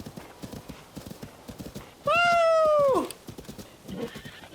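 A horse in Zelda: Tears of the Kingdom gives a loud, drawn-out neigh over steady clip-clopping hooves, with the galloping rhythm continuing before and after the whinny.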